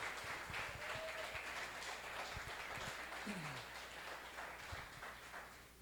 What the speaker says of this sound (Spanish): Si le va a aplaudir, apláudale fuerte a Él.